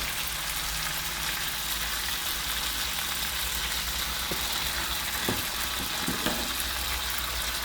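Canned fish and kale stir-fry in a pan, a continuous soft sizzling hiss with a few light clicks of utensils near the end, no speech.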